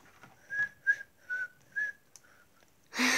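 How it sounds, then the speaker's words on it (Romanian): A person whistles a short tune of four clear, evenly spaced notes, fairly close and alone, followed by a brief unrelated noise at the end. "Nu prea știu să fluier așa bine."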